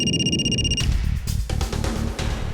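A telephone rings with a steady electronic trill for under a second, then cuts off as dramatic music with heavy rhythmic beats takes over, with no talking.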